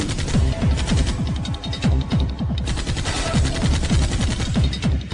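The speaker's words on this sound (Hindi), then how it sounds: "उधर दूसरी मंजिल पर फंसे दोनों आतंकी अब बिना किसी पॉज के लगातार फायरिंग करने लगते हैं।" Two trapped terrorists on a second floor fire nonstop: loud, dense, continuous automatic gunfire with rapid overlapping shots and no pauses over the whole stretch.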